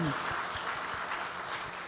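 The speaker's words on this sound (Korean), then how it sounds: "박수하겠습니다" Applause from the congregation during a Sunday church service, a soft, steady patter of many hands clapping at moderate distance, with faint voices murmuring underneath.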